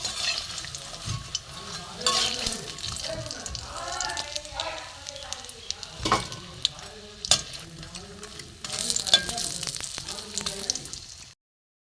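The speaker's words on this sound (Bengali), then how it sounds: "হালকা একটু ভাজা হোক দেবো।" Cauliflower stem finger pakoras fry in hot oil with a steady crackling sizzle, broken by scraping stirs and turns of the pieces; a voice talks over much of it before it cuts off abruptly.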